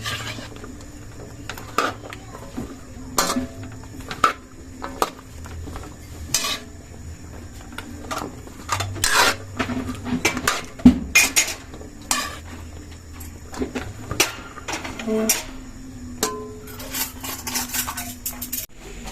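A utensil stirring chicken cooked in coconut milk (ginataang manok) in a metal pot makes close, irregular clinks and scrapes with scattered louder knocks over a low background.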